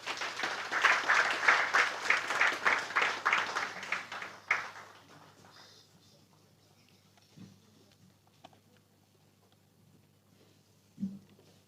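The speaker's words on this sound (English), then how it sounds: "I think we can do better by giving Mr. Governor a bigger round of applause" An audience at a Nigeria public-private partnership forum applauds the Governor of Lagos State, a dense, moderately distant round of clapping for about four seconds that fades out, followed by quiet room noise with a few faint knocks.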